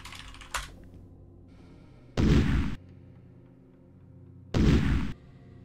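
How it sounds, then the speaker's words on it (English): Thermal detonator blast in the Space Quest III computer game, heard as two loud, short bursts of broadband noise about two seconds apart, each cutting off sharply, with a brief sharp click before them. "The explosion disables the force field generator."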